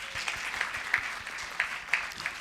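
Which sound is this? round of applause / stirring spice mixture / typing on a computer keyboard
round of applause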